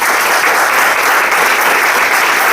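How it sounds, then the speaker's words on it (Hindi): Loud, dense applause from a crowd at a business opportunity presentation, sustained and even throughout without any talk over it. "तो वेस्टीज मार्केटिंग के लिए जोरदार ताली होनी चाहिए।"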